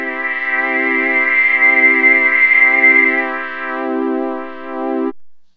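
Low-pass filter with raised resonance on a Deluge synthesizer: a loud sustained buzzy synth tone with a strongly emphasized resonant band that shifts over several seconds, then cuts off abruptly, with no talking.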